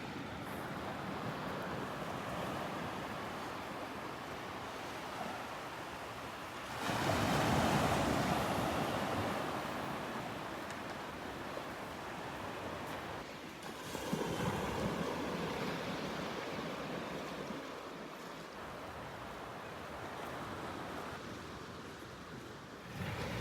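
Small waves wash gently onto a beach in North Naples, Florida, a soft continuous surf rush with a louder swell partway through, mixed with light wind noise and no talking.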